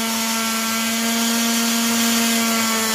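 A bench grinder runs steadily while a wood lathe chisel is sharpened on it, giving one continuous loud whine with a strong, even tone and no pauses, close up and with no talk.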